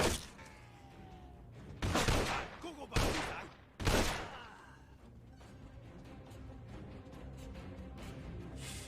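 Several loud bursts of gunfire in a GTA game on PC, three heavy blasts a second or so apart, then quieter game ambience.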